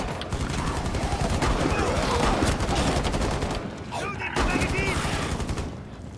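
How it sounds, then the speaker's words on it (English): Shotgun blasts in Rainbow Six Siege ring out in a dense, loud volley of repeated gunfire with mechanical clatter, close and continuous, with a brief lull midway. "I love using the shotgun"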